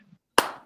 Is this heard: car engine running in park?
no